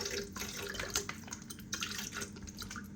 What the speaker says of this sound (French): je commence par mettre l'eau